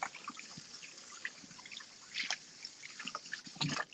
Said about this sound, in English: Is it my imagination, or can I hear water running?